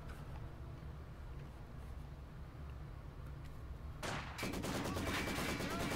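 Gunfire bursts from a Maxim machine gun crew in Company of Heroes 2 erupt near the end, dense rapid firing over a steady low game rumble.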